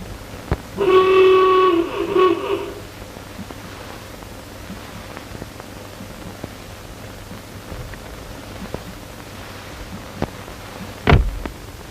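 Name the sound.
car horn sounding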